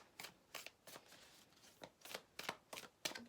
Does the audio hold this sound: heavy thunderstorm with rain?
no